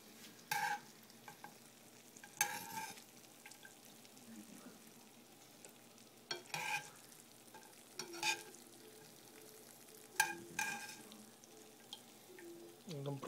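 Jilebi frying in hot oil, soft sizzling under scattered bursts of stirring and scraping as pieces are lifted out, fairly quiet and close, with no speech.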